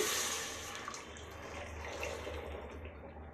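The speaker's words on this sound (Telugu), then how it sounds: "ఇందులోకి ఈ వడకొట్టుకున్న పాకం వాటర్ పోసేద్దామండి" Strained jaggery syrup water is poured from close by into a pot on a stove, making a steady liquid stream that tapers off toward the end with no talking.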